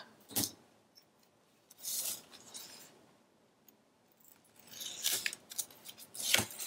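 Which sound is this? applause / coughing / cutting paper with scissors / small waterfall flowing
cutting paper with scissors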